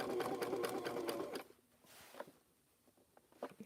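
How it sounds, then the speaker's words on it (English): A sewing machine rattles rapidly as it stitches pinwheel quilt blocks onto a jean jacket sleeve, a close, steady run that stops after about a second and a half, followed by faint handling clicks. "I'm thinking I want to do a couple rounds of sewing."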